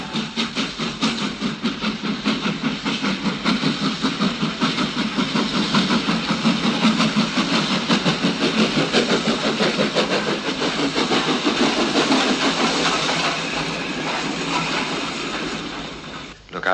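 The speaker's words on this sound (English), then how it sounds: "Bye, little Edward," said Gordon as he puffed away" A steam engine train puffs away with a loud, steady rhythmic chuffing and rumble that carries on for over a dozen seconds before easing off at the end.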